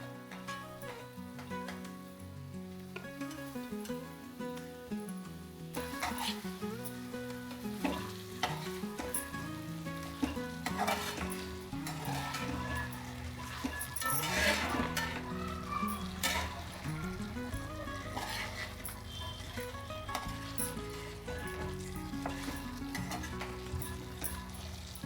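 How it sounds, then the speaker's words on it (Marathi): Chicken pieces sizzle and fry in a Maharashtrian ground spice paste tempering, with steady loud crackling and occasional stirring scrapes throughout, no talking. "फोडणी परतून झालेली मसाल्यामध्ये मी आता चिकन टाकतीये"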